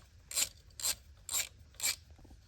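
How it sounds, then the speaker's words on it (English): Ratchet working a 10 mm bolt down on a Lexus GX460 coil pack, four short raspy clicking bursts in an even rhythm, close and clear over a quiet background. "Tighten that 10 mil back up."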